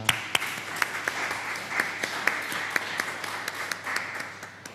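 A church congregation claps to welcome one another during a worship service, with distinct individual claps standing out over a steady wash of applause.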